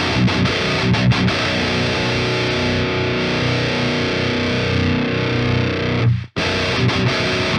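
Heavily distorted electric guitar through a metal amp simulator plugin plays sustained chords and riffs, loud and dense, cutting off abruptly near the end before resuming.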